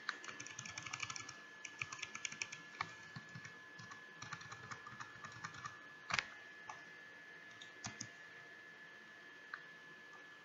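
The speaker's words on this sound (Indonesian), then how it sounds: "Saya ketik ulang." Irregular clicking bursts of typing on a computer keyboard, with a regular-expression pattern being keyed into a Google Form, close and fairly quiet, with one louder key strike partway through.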